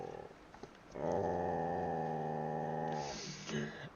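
A dog close by gives a sustained, low, rumbling growl-like vocalization that lasts about two seconds, then fades into a short breathy huff. Nobody speaks.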